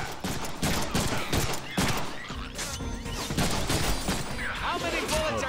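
Rapid bursts of gunfire from the Deadpool video game, dense overlapping shots and impacts that run loud and continuous, with voices shouting over the shooting.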